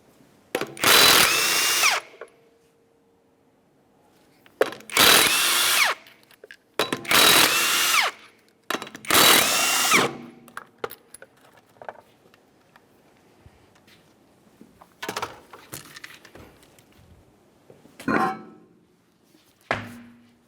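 Power tool spinning off 19mm lug nuts from a 1994-1997 Honda Accord 2.2L wheel: four loud close bursts of impact whirring, each about a second long, then quieter clanks and a couple of shorter bursts.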